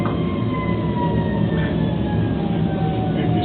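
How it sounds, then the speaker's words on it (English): A siren sounds the all clear near a fire truck, a loud sustained wail with slowly falling pitch, steady throughout. "the all clear call came in, so the siren went off"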